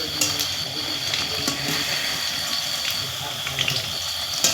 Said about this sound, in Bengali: আর এই উল্টো পাল্টা করে এই পকোড়াগুলো আমি লাল করে ভেজে নেব।